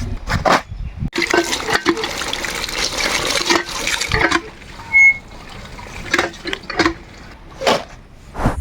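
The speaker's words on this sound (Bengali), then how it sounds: "আমরা এখন কলাপাতাগুলো ধুই হনে পরিষ্কার করে নিব" Water splashes and trickles in irregular bursts as chopped banana leaves are rinsed clean, with short pauses between pours and a few sharp taps of the leaves near the end.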